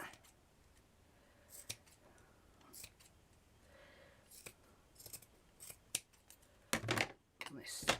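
Scissors snip chiffon fabric for couture flowers in a series of quiet, irregular cuts, ending in a cluster of louder, closer snips, with faint handling noise between them.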